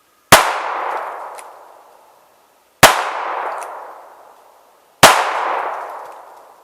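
Three sharp, loud gunshots from a Smith and Wesson 637-2 Airweight revolver fired double action at about 15 feet, spaced roughly two and a half seconds apart, each with a long ringing decay.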